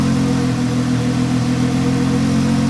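A Porsche 911 fitted with Fabspeed headers and a sport exhaust idles steadily at close range, giving a loud, continuous, deep mellow rumble with no voices over it.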